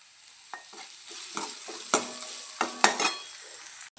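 Finely chopped onion fries in a pan as the base for a rajma curry. A steady sizzle runs under several sharp stirring scrapes and clatters spaced through the clip, with no voices.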